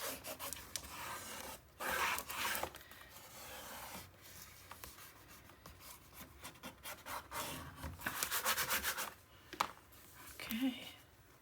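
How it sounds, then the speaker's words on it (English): Paper panel for a mini album burnished in place: close, quiet rubbing and scraping strokes in short bursts with pauses, alongside a little speech. "now we can get in here and burnish this in place"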